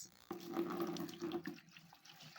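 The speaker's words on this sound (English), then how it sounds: "So I'll go ahead and strain the water from it." Water pours off soaked Nigerian pap (akamu) through a sieve, a soft, steady trickling splash that starts abruptly and runs for over a second before thinning to faint drips.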